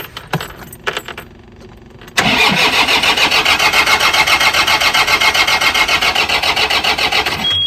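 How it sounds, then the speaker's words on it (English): A John Deere 4044M tractor engine cranking without turning over, a loud, close, rapid rhythmic starter churn that runs steadily for several seconds after a few clicks and key sounds. "and I try to start the engine"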